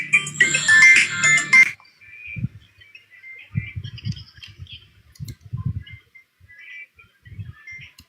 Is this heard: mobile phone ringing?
yes